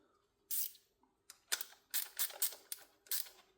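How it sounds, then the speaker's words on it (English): Spanner clicking and ratcheting on a nut of a Ducati motorcycle, a series of short, close mechanical clicks and scrapes in irregular bursts with quiet gaps between them. "Use a spanner instead."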